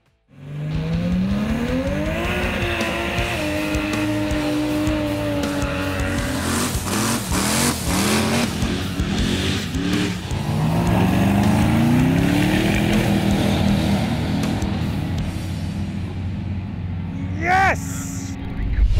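A Holden VE race car on a 147 mph run roars loudly and close, its engine climbing through several gear changes, with brief tyre noise near the end.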